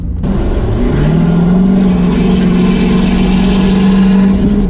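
A Ford F250 pickup truck engine revs up loudly from idle and holds a high, rumbling drone, pitch wavering slightly, close to the microphone with no talking.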